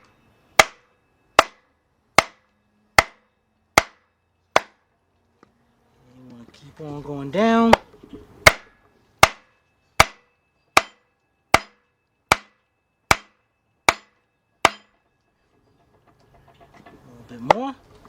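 Sharp, evenly spaced hammer blows drive a part on a 2003 Jeep Liberty Sport 3.7 engine through a wood block, about fourteen ringing strikes in two runs with a short stretch of talk between them.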